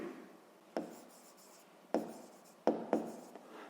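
A pen writing on paper during a sixth-grade maths exercise: close, dry scratching with a few sharp stroke onsets spread irregularly through the stretch, and no voices.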